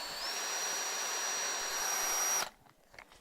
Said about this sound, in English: with the masonry drill bit is get those 2 holes drilled